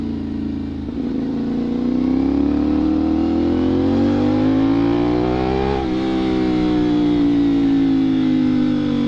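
A CFMoto 450SR motorcycle with an SC Project exhaust and catalytic converter deleted revs hard during a decibel test, a loud sustained close engine roar whose pitch climbs steadily, dips briefly, then holds high.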